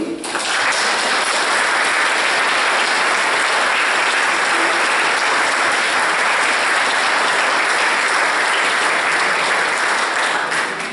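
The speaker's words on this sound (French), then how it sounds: "Nous pouvons tous les applaudir." A congregation at an Assumption mass in a chapel breaks into loud sustained applause, with many hands clapping in a thick steady wash that lasts for several seconds without pause.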